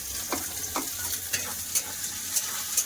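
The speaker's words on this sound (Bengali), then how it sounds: "পেঁয়াজটা ভালো করে ভেজে নেবো" Chopped onion with cumin and green chilli fries in oil in a wok, giving a close, constant sizzle with repeated scraping stirs and light clinks of the spatula, and no voices.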